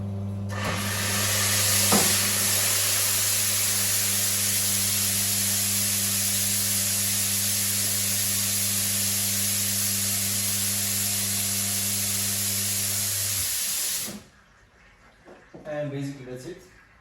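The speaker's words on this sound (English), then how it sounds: "also to flush a bit the water through the group heads, and also through the steamers" An espresso machine flushes water through its group heads and steam wands, giving a loud, steady rushing spray with a low hum that runs for about fourteen seconds and then cuts off, followed by faint clatter.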